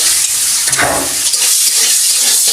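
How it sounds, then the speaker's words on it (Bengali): Steady, close sizzling and crackling of quail eggs with a little turmeric frying in hot oil, with a brief louder burst near the start and no talking. "বেশি ভাজবো না অল্প অল্প ভেজে নিব"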